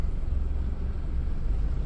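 Steady low rumble from inside a 1999 Mitsubishi L200 pickup truck on the move, a continuous close road and engine drone with no talking.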